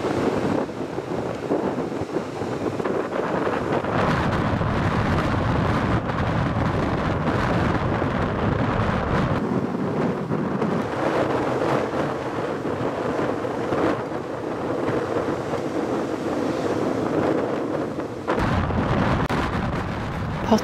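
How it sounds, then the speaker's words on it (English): Strong, steady wind roars and buffets the microphone throughout at a golf course in Muscat, a continuous loud rumble with gusty surges and no voices. "Very windy today."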